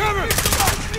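Rapid automatic gunfire from the Call of Duty Modern Warfare video game rattles in loud, tightly spaced bursts. The shots sound close, with a voice faintly under the shooting.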